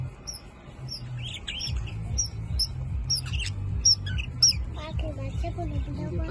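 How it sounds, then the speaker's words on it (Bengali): Birds eating guava give repeated sharp, high squawks and chirps in quick bursts nearby, moderately loud, while people talk in the background. "পাখি পেয়ারা মুখে নিয়ে ওরা খাওয়াইতেছে।"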